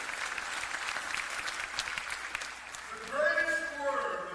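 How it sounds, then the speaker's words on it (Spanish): Congregation applause at a church service, a steady wash of clapping that fades in the middle, then a voice speaking in Spanish rises over it near the end. "dele un aplauso al Señor"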